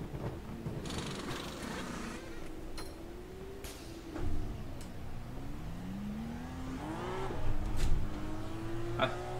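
A Dallara race car engine in a racing video game revs up and accelerates hard, its rising pitch sweeping upward through several gear changes, loud and close with no talking.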